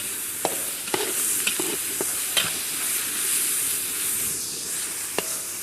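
Garam masala stirred with tomatoes frying in a pan for an Indian dish, giving a continuous sizzle with repeated sharp scrapes and taps of the spoon at irregular intervals, close and clear.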